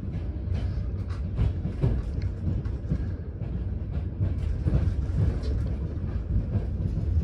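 A night train rolls steadily along the rails just after departing on a New Year's Eve crossing from Hungary into Romania, with a continuous low rumble and faint rhythmic clatter heard from inside the carriage.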